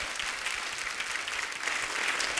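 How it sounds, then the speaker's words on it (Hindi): Loud, steady applause from a studio audience at a Hindi poetry comedy show, dense clapping filling the whole stretch without pause. "जोरदार तालियां हो जाए एक बार हमारे कलाकारों के लिए।"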